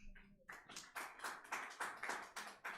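A handful of audience members at a live comedy show clap in a slow, steady rhythm, about nine separate claps in a row, fairly close and with no talking.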